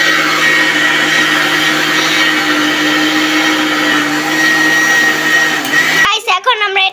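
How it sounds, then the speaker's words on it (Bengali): A kitchen blender whirs loudly and steadily while blending raw mango for aamsotto, then cuts off near the end as a voice begins speaking. "আমরা এখন ব্লেন্ডারে এটা ব্লেন্ড করে নিচ্ছি।"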